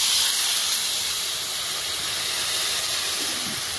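Water poured into a hot frying curry of okra and potato sends up a loud, steady hiss of steam that fades slightly over a few seconds, with no voices over it.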